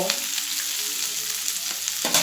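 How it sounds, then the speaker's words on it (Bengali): Flat beans and potatoes sizzle steadily in a hot pan while a spoon stirs them, with scraping and clinking throughout the short close-up stretch and no talking. "সিমটাও আমি দু তিন মিনিট নেড়ে নিলাম সিম আলু একসঙ্গে"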